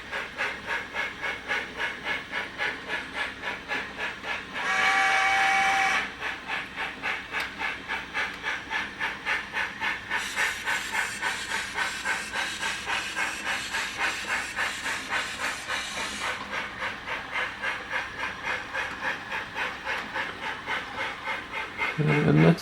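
Steam locomotive hiss on a model railway layout during an operating session, with a steady rhythmic chuffing hiss throughout and a brief louder whistle-like burst near five seconds, moderately close and without talk.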